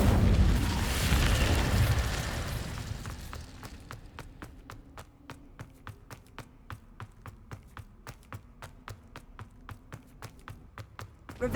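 An Incendio fire spell in the Hogwarts Legacy video game: a loud roaring burst of flame for a couple of seconds that fades out, followed by a long run of quick, faint, evenly spaced ticks.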